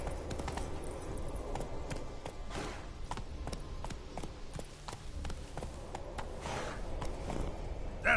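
Roach the horse's hooves clip-clopping in The Witcher 3, a steady walking rhythm of soft repeated hoof taps over a constant low ambient rumble, moderately close and alone.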